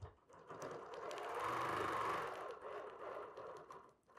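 A BERNINA sewing machine stitches a quilted autumn wall hanging, a soft continuous motor whir with rapid needle clatter that swells and eases over a few seconds.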